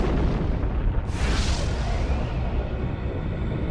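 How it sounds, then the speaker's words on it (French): A supernova explosion sound effect for a space documentary: a low, heavy rumble breaks into a sudden hissing burst that swells, then settles back into a fading roar. "après avoir explosé en une supernova"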